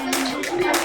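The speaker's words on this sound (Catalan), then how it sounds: "Un fort aplaudiment, sisplau," Short burst of audience applause for athletes at a prize-giving ceremony for the 2023 Martorell race, clapping in a few quick surges with a steady hum beneath.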